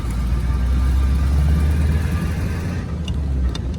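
A 1935 Packard Standard 8 convertible sedan's engine turning at low RPM, a loud, steady, deep rumble close by that eases slightly near the end, with a couple of light clicks.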